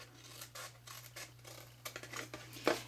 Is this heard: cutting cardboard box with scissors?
yes